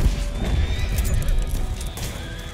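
A horse whinnies over a rumbling Red Dead Redemption 2 soundscape during a bounty shootout, with thuds and clatter around it.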